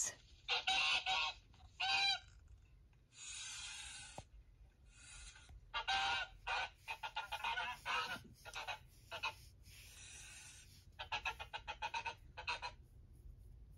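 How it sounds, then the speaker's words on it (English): Domestic goose honking loudly and close, a run of harsh nasal calls in irregular bursts, some single and some rapid strings, with brief quiet gaps between them. "Goose."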